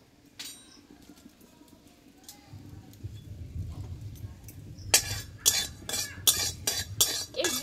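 Whole cumin seeds, about a spoonful, dry-roasting in a hot dry pan, heard as a low rustle that builds into sharp bursts of crackling and clinking from about five seconds on, close by and fairly loud.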